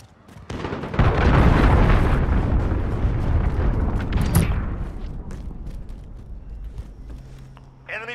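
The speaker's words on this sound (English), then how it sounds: "Enemy cruise missile." A cruise missile explodes in Call of Duty Modern Warfare, a sudden deep boom followed by a long rolling rumble that slowly fades, with faint debris crackles at the end.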